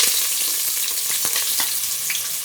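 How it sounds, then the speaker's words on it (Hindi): Chopped onions frying in well-heated oil in a pot for kadhi pakora, a steady close hiss of sizzling with faint stirring clicks throughout, no talk. "एक बर्तन में ऑयल हमारा अच्छे से गर्म हो चुका है। अब हम इसमें प्याज ऐड करेंगे"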